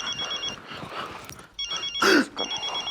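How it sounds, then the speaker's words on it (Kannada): A telephone rings in a Kannada TV comedy scene, its bright electronic trill repeating in short bursts over a murmur of background voices and room noise, with one louder burst near the end. "phone phone phone phone"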